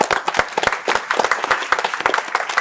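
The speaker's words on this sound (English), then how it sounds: "Could we get a round of applause, please, for Chelsea?" Audience applause at a debate show, a short burst of sharp, distinct hand claps from a modest group, fairly close and uneven in rhythm, with no voices over it.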